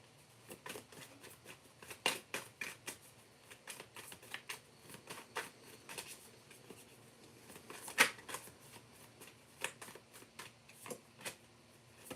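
Tarot cards are shuffled and pulled in a quiet room, irregular bursts of riffling and sharp snapping flicks spread across several seconds.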